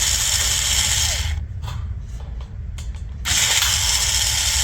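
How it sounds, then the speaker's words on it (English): A power drill in a small child's hands runs in loud bursts at the start and end, broken by a quieter stretch of clicks and handling noises. "I have not taught him how to hold a drill."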